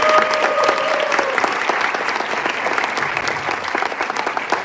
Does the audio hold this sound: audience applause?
yes